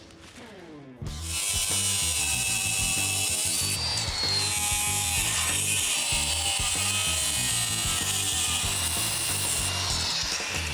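Power tool cutting into a steel cross member on an OBS Chevy C-1500 truck chassis: after a quiet second, a loud continuous grinding, rasping whine takes over and holds steady, with no talk.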